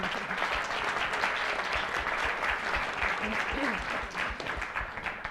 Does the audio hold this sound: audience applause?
yes